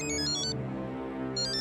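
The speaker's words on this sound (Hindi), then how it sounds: "सोडी का फोन है? उठाइए ना, उठाइए" A mobile phone ringtone plays in a home scene from an Indian TV comedy. It is a loud, close electronic melody with bright repeating chimes, heard alone with no voices.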